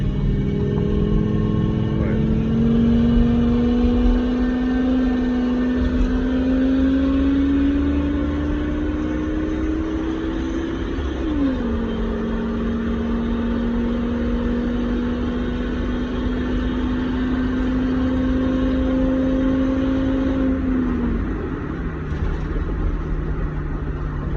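Steady engine drone heard from inside the cabin of a 2001 Ford Excursion SUV, with a rising tone that climbs, drops at a gear change, then climbs again as it accelerates.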